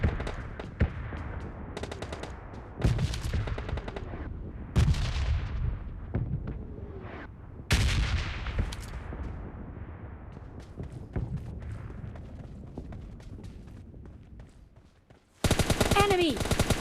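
Bursts of gunfire crack out in a PUBG Mobile Lite match, heavy repeated volleys with echoing thuds and tails, some shots nearer and louder, others distant, ending in a sharp loud burst.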